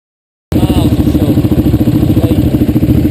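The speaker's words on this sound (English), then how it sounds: "we broke it down and got on the bikes and headed out" Motorcycles starting up and riding off, a loud, steady, throbbing engine rumble that begins abruptly and continues close by with a pulsing rhythm.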